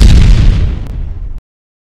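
A loud single explosive burst rolls out and decays over about a second before cutting off abruptly to silence, like a firecracker blast sound effect.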